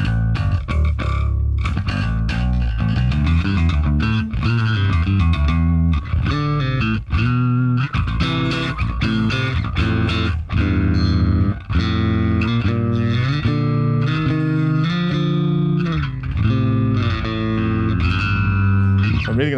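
Heavy, distorted bass guitar riffing in a modern metal style through a Line 6 Helix with stock cabs, thick and saturated, with dense chugging notes and brief gaps, loud and up front.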